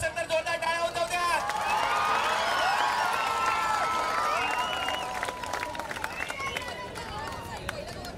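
Crowd at a kabaddi match cheering and clapping continuously, a loud dense roar of applause and shouts with an announcer's voice over it.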